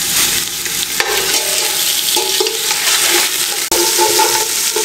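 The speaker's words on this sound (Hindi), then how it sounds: "इसका कच्चापन दूर करने के लिए हमने इसको 2 से 3 मिनट फ्राई करना है इसमें" Chicken necks and wings fry and are stirred in a pot for a soup, giving a loud, continuous sizzle with scraping stir strokes and brief dips as the pieces are moved.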